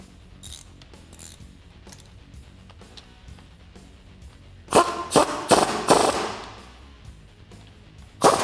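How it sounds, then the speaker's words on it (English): A suspension bolt on a Jeep Wrangler JK is turned by hand with a ratchet and 15 mm swivel socket during a lift kit install, giving quiet clicking that breaks into several loud, close bursts of rapid ratchet clatter. "to ratchet this by hand for a couple of threads, make sure that they are threading correctly"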